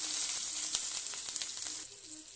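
Dried red chillies, bay leaf, five-spice seeds and onion sizzle steadily in hot oil, a close, continuous bright hiss with a few small pops and crackles, no voices.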